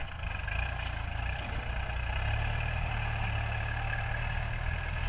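A tractor ploughs a rice field in the late afternoon, its engine giving a continuous low, even drone nearby, with no voices.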